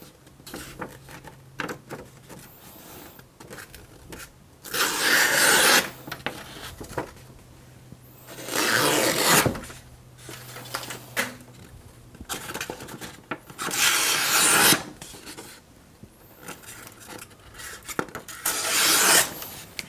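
Knife edge pressed against the abrasive belt of a Work Sharp Knife & Tool Sharpener, giving several separate bursts of loud, gritty rasping between quieter stretches where only the low motor hum runs.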